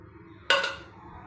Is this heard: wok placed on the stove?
yes